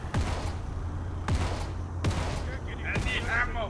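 Gunfire in the military shooter Arma 3, four sharp shots spaced about a second apart over a constant rumbling background, loud and close, with faint voices.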